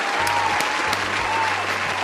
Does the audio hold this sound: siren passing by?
no